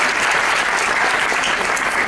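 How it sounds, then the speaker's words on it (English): An audience at a talk gives a round of applause, a dense, steady wash of many hands clapping at close range throughout, with no voices standing out. "Can we have a round of applause for"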